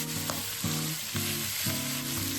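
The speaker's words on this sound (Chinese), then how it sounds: "热锅下油，均匀铺上五花肉" Marinated pork belly slices fry in hot oil in a wok over high heat, a loud continuous sizzle with repeated bursts as pieces are laid and stirred, close and without talk.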